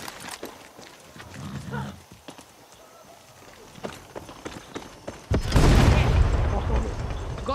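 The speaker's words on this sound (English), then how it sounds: "gunshot." A single loud gunshot booms out in the video game Far Cry 6 on PS5, followed by sustained noisy rumble after quieter clopping and game voices.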